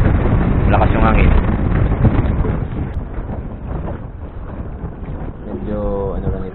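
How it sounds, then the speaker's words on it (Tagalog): Loud, constant wind buffeting the microphone in a low roar on a fishing outing, with a person talking over it. "malakas yung hangin"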